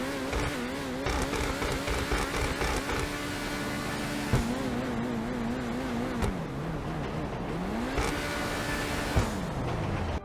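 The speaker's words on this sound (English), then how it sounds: "Let's rev up the car and see how this thing sounds." The engine of a Grotti Turismo Classic sports car in GTA Online revs repeatedly, its pitch climbing and falling in several swells under a steady idle drone.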